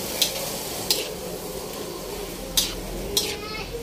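Cabbage and soaked rice noodles for pancit bihon stirred in a pan, with steady sizzling beneath four sharp utensil scrapes against the pan, close and moderately loud.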